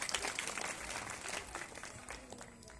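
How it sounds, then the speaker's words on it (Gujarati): Audience applause for schoolgirls at a Republic Day school event, a dense, steady patter of many hands clapping at moderate distance, fading slightly toward the end. "તાળીઓથી વધાવીએ આપણે."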